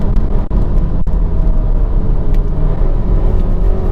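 A 2019 Audi Q3 engine revs hard at around 4,500 RPM, giving a steady, gritty, throaty rumble that stays loud and close from start to finish, with two short dips in the drone.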